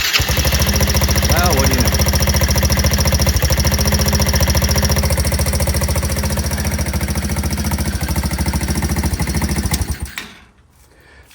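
A small 110cc Chinese ATV dirtbike engine runs loud and steady at a rough, pulsing idle, close by, with a brief spoken remark over it, then cuts off abruptly near the end.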